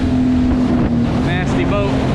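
An old center-console motorboat's engine drones loudly and close, with wind buffeting the microphone and a brief high squeal near the end.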